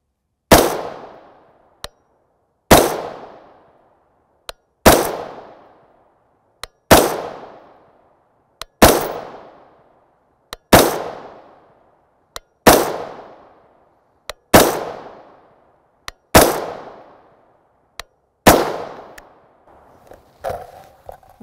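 An AR rifle firing RUAG/Norma 5.56x45mm 55gr FMJ M193 ammunition, with ten sharp, loud shots at an even pace of about one every two seconds, each cracking and then ringing out briefly in open surroundings.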